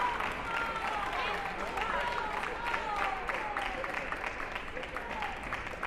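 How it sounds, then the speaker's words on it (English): A crowd applauds and cheers steadily for several seconds after a forehand at a collegiate table tennis doubles match, filling a packed hall, while a commentator's voice talks over the noise. "you can hear the crowd react to that shot."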